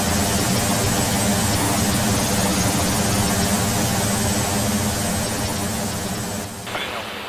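Aircraft on approach to Petropavlovsk-Kamchatsky airport on Kamchatka, a steady, loud engine drone that holds level throughout, easing off slightly near the end.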